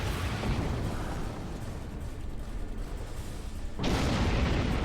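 Starship weapons fire in Star Trek Online, a sustained roar of explosive blasts and booms with a loud burst surging near the end.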